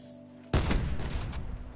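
A single sharp, loud sniper rifle shot cracks out after a brief quiet moment in the Black Ops 4 shooter game, followed by a rumbling echo and tail that fades slowly.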